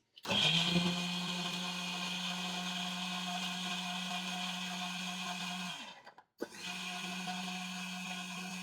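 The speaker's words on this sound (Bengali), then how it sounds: "আমি এখনই দেখা দিচ্ছি আদা রসুনটাকে পেস্ট করে দেখা দিচ্ছি" A Disnie 1000W bullet mixer grinder whirs steadily and loudly while blending ginger and garlic into paste, its motor holding a constant drone before cutting out briefly near the end and restarting.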